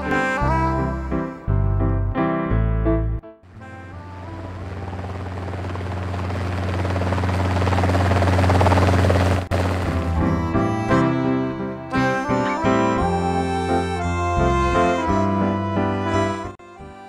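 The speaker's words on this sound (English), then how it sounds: "Helicopter." A loud helicopter with steady rotor chop and engine drone, set against musical tones that start and stop throughout.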